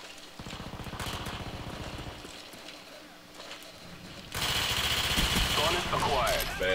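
Rapid automatic gunfire rattles on the firing range in Call of Duty Black Ops, loud and sustained, with a second denser burst partway through and someone talking over it.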